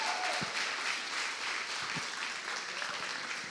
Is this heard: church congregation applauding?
yes